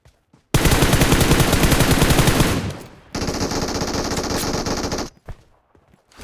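Sustained MG3 machine-gun fire in a battle-royale video game, two long loud bursts of rapid, dense automatic shots separated by a brief gap, close and overwhelming, with no talk over it.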